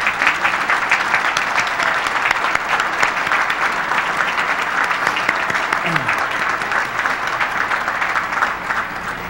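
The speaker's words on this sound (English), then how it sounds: "I think they deserve a tremendous round of applause" Sustained, vigorous applause from a large audience at the 1998 Naval Academy graduation ceremony, a steady dense roar of clapping throughout with faint voices underneath.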